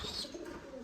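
A pair of newly bought pigeons, one black and one chocolate with a white head, give a soft, brief coo, faint and close by, with no talking over it.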